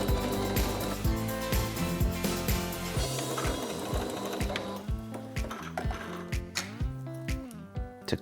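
A home sewing machine runs in quick bursts of close, rhythmic mechanical whirring while stitching near the edge of a skirt waistband. The bursts stop and start, then settle into a steadier run.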